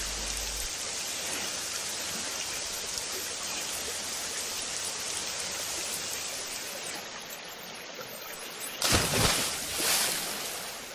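Steady, heavy rain hisses throughout, with a louder surging gust of downpour near the end, in a cartoon.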